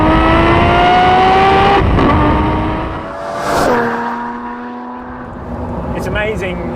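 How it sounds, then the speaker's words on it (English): The last Bizzarrini V12 in an analogue supercar roars loudly from the cabin, the engine pitch rising through revs, dropping at a gear change and climbing again, with someone speaking over it. "This is then reinforced over and over by the monstrous engine, the last of the magnificent line of Bizzarini V12s."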